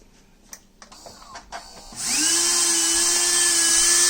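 A Philips Saeco Moltio coffee machine's grinder motor starts up after a few faint knocks, then runs steadily with a loud, sustained high-pitched whine and buzz close by.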